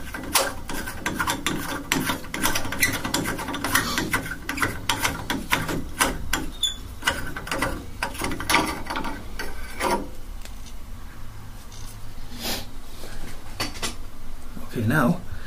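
A bathtub faucet trim part being turned counterclockwise by hand, giving close scraping, rasping and ratcheting clicks in irregular bursts, with someone talking over it.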